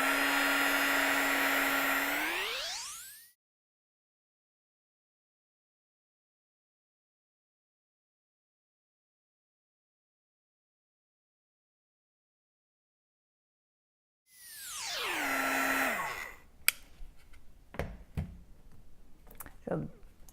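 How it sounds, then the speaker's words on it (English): A Marvy Uchida heat gun runs loud with a steady high whine, then winds down to silence; after a long pause it whirs up again and shuts off, followed by scattered light clicks and taps. "I have my heat gun. This is a Marvy Uchida heat gun."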